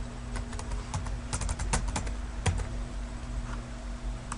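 A password is typed on a computer keyboard, a close series of quick, irregular key clicks in short bursts over a faint steady hum, with no talking.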